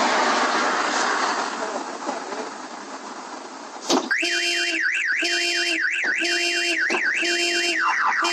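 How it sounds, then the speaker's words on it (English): A parked red car's alarm bursts on after a muffled rumble, then blares loud and close in repeating cycles of warbling, rising-and-falling electronic siren tones with brief gaps between them. "The car alarm screams louder than he ever could"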